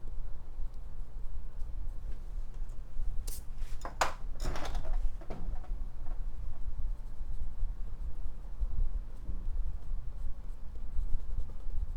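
Pencil scratching and shading on paper during a sunset landscape sketch, close and quiet, with a few brisk strokes clustered in the middle and soft steady rubbing throughout.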